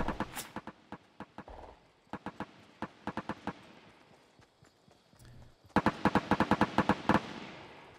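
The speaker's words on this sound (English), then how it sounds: "A lot of gunfire back from once I came." Bursts of sharp gunshots in Fortnite in quick rhythmic volleys, separated by brief lulls, with a final rapid string of shots.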